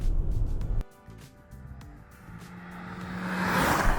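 A BMW X3 20 engine, heard from inside the car, drops to a quiet hum after an abrupt cut, then builds again in a rising acceleration with growing road and wind noise.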